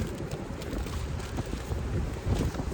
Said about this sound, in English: Oh, there goes the wind, baby.